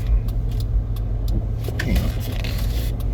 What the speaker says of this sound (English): Wow, look at all these cars. Holy shit. He did a U-turn right there.